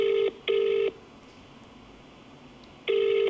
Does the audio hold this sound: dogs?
no